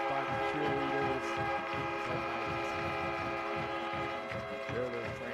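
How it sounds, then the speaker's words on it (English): A sustained train horn blares loudly at a high school football game, Southside versus Acadiana, with rhythmic cowbells clanking beneath it and a crowd roaring throughout. "They're the train horn, those cowbells I was talking to you about"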